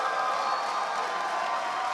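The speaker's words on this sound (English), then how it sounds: "Let's give a round of applause." Audience at a USA versus India chess event giving a round of applause with cheering, a brief, steady wash of crowd noise heard from a distance.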